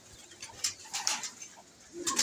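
Pigeons leaving their loft coo softly in low, rounded phrases, several faint calls spaced across a quiet moment close by.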